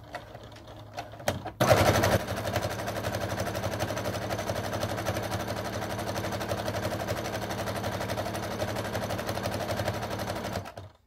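A sewing machine runs a steady straight stitch through a fleece hat, a loud continuous rapid whirring hum that starts abruptly after a short quiet lead-in and runs evenly for about nine seconds before cutting off.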